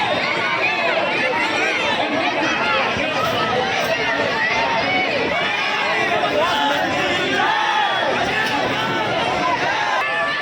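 Large, dense crowd pressing against a gate at the Garha Phatak Mahakali festival in Jabalpur: loud continuous babble of many voices and shouts, close and unbroken.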